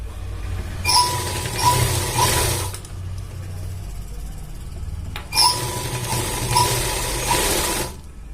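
A sewing machine stitches the back pocket of a pair of pants in two short bursts of rapid, even whirring, separated by a quiet pause, close and clear with no voices.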